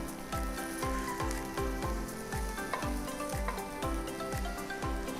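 Continuous loud sizzle of pork frying in a pan over medium-high heat, with a regular rhythmic thumping underneath, close up and without talk.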